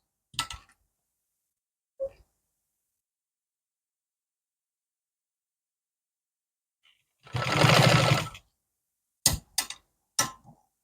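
A sewing machine stitches a pocket onto plastic on a palazzo in short separate bursts: one longer run of about a second, then several quick brief rattles, with long silent gaps between.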